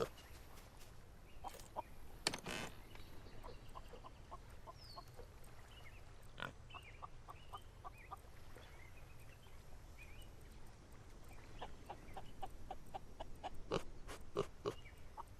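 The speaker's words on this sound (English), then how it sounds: "Oh, pig, I hear you." Pigs in the Solarpunk video game give scattered oinks and grunts over a low steady background hum, with short sharp clicks mixed in and no talking.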